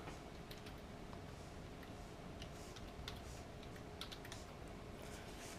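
Typing on a computer keyboard: faint, quick scattered key clicks over a steady low hum, with no talking.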